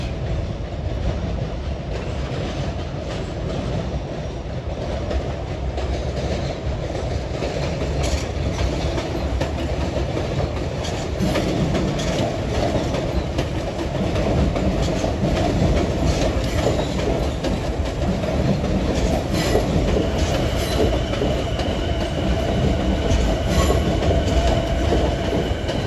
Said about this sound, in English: here comes train 755 en route from Hempstead to Atlantic Terminal with more M9s